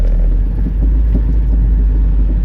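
A truck being driven through the streets of Tours, France, heard from inside as a loud, steady low engine rumble and road drone with no talking.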